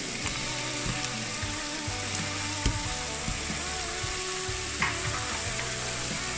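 Frozen vegetables sizzle and crackle steadily in a pan with browned cooked chicken, with a few clanks of stirring, close and continuous.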